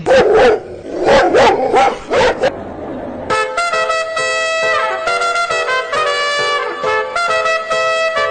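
A dog barks several times in quick succession, loud and close, followed by a sustained honking, tonal horn-like sound that continues to the end.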